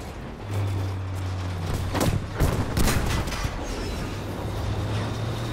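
A Panzerfaust fired in a video game rings out as two sharp, loud blasts about a second apart over a steady engine drone, fairly close.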